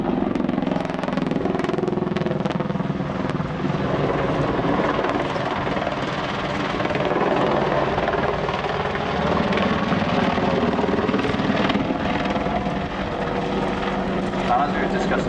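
An Apache attack helicopter flying a display at RIAT, a loud sustained rotor and engine roar that stays steady throughout, with a voice talking over it.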